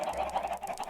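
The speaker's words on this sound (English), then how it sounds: "those chickens are so loud" Chickens in a modded Minecraft game cluck and honk loudly and repeatedly in a quick, steady rhythm, filling the short moment close up without any talk.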